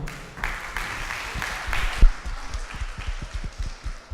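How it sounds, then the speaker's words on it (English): An audience applauds a children's outfit designer at a kids' talent show in Gambia, scattered moderate clapping that thins into separate individual claps toward the end. "Please give her a round of applause once again."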